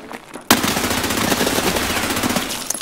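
Rapid automatic gunfire from an Escape From Tarkov firefight erupts suddenly after a quiet moment and holds loud and dense, a sustained burst of shots with echoing crackle.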